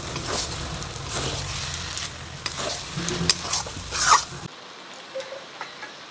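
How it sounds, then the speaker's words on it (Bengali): A pulao with fried onion gets stirred in the pot after garam masala and ghee go in, giving soft scraping and light sizzling for about four seconds before it drops to near silence. "এবার একটু নেড়ে দেব।"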